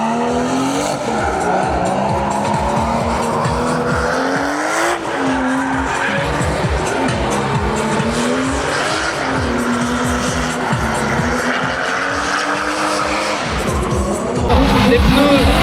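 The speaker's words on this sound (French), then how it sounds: "Et bientôt la Skyline R34 en piste, la voilà." A Nissan Skyline R34 races on track alongside another car, engines roaring steadily with rising and falling revs and loud tire squeal as they drift, while a commentator talks over it.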